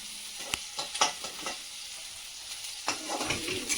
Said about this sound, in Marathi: कांदा वगैरे टाकून घेतल्यानंतर त्याला लाल होईपर्यंत आपल्याला परतून घ्यायचं आहे